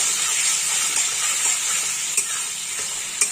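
Turmeric frying in hot oil for a boal fish curry, a steady bright sizzling hiss throughout with a couple of faint clicks, close and fairly loud, with no talking.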